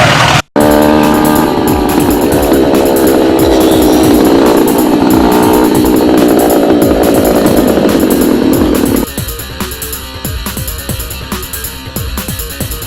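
A motorcycle trike rides through Baguio, Philippines, its engine droning loud and close with steady road rumble, cutting off briefly near the start and dropping to a quieter running note in the last few seconds.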